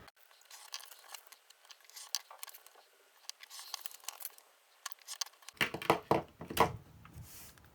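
Scissors cutting along inner lines of a 6x6 paper pad, quiet close snips and paper rustles in an irregular rhythm, growing louder and busier toward the end.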